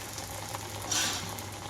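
Black-eyed pea vadas (alasanda garelu) frying in hot oil give off a steady, close sizzle, with a brief louder hiss swelling midway, and no voices.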